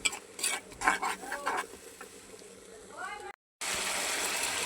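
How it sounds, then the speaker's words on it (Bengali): Mixed spices are stir-fried together in a pan for a curry, with clanking stirring strokes of a utensil against the pan over a low sizzle, then a brief gap followed by steadier frying noise. "এই যে সব ধরনের মশলা আমি এনে একসাথে দিয়া কষাই নিতেছি"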